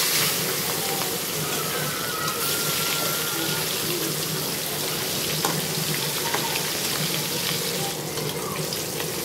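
Pangas fish pieces frying in mustard oil in a wok give a dense, steady sizzle and spatter, loud and close, unbroken from start to finish with occasional small pops.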